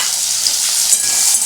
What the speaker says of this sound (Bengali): এবার এখানে আমার কিছু পেঁয়াজ কুচোনো রয়েছে, এগুলো আমি দিয়ে দিলাম